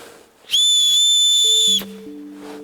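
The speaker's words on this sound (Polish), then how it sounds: "mamy tutaj gwizdek survivalowy" A survival whistle is blown once in a steady, shrill blast for just over a second, loud and close, with faint lower tones lingering afterward.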